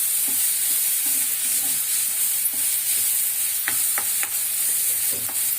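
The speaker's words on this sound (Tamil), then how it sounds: "வெங்காயம், கேப்சிகம், தக்காளி நல்லா வதங்கிச்சு." Onion, capsicum and tomato sautéing in a pan for prawn gravy, a steady soft sizzle with a few sharp scraping and stirring knocks of a spoon, close and without talk.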